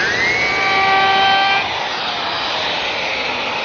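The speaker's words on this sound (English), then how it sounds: "To smooth up the cut left by the bandsaw, I'm using my belt sander, just taking the line away." A belt sander smooths a bandsaw cut on a butterfly table top, a loud, close, continuous whirring drone whose pitch drops slightly partway through as the belt bites into the wood.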